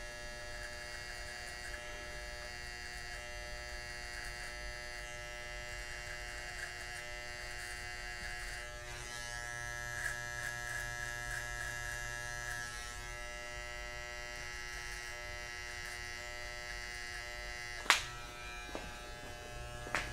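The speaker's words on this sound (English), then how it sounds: "with the corner of the clipper, just make a little indentation of how far you want to go in" An electric hair clipper buzzes in a steady, continuous drone, close up, with a brief tap or click near the end and no talk over it.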